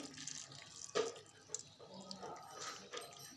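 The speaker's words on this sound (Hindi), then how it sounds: "अब मैं इसको गर्म पानी में भिगोऊंगी।" Hot water is poured over tamarind in a container to soak it, a close, quiet splashing and trickling with a brief louder gush near the start and light drips after.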